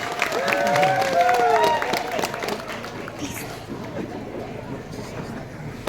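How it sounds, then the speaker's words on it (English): Students in a classroom clapping and whooping during a teacher day celebration, a burst of cheers and high shouts over scattered claps that fades to lighter crowd chatter. "give a clap for yourself"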